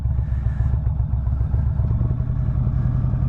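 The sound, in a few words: motorcycle engine with throttle during slow cone weave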